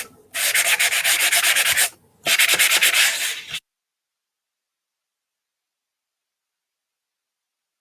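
A rough sanding tool rubs across vanilla cardstock in two long, steady bursts separated by a brief pause, close and loud with a dry scratchy texture, followed by silence.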